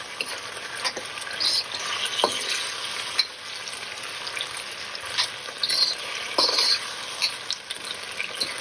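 Kung pao chicken with cashews and chilli sizzles in a hot pan as it is stirred dry, a steady close frying hiss broken by occasional scrapes and soft clatters.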